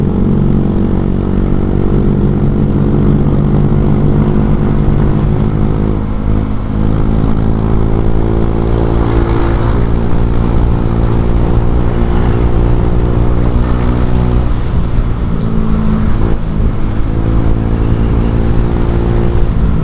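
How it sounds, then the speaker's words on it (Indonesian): Motorcycle fitted with a ZRC exhaust revved hard, a loud, continuous droning engine note with steady harmonics that rises and falls slightly in pitch over about twenty seconds, close and alone. "Pengen ngedenger suara ZRC itu seperti apa kalau misalkan digeber kayak gitu guys."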